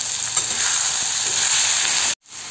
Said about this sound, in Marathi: आपले कांदे वगैरे भाजले गेले का हे पण तळायचं, हे पण अजून भाजायचं काम चालू आहे।